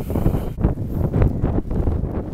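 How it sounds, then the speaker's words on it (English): Strong wind buffeting the microphone high up beside the Rottnest Island lighthouse, loud rumbling gusts that surge and ease in waves, with no talking. "Very windy up here because it's pretty high up"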